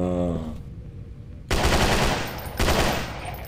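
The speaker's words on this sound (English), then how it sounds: "It's a semi-automatic!" Semi-automatic gunfire in the Residence of Evil video game rings out in two loud bursts of rapid, close shots, each a rattling stream of reports separated by a short quiet gap, with no voices.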